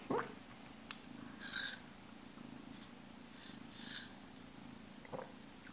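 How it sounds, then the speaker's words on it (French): A cat lying on a person's lap purrs with a soft, low, continuous hum. The purring is quiet and close, with a few faint, brief rustles over it. "Je pense que tu l'entends ronronner."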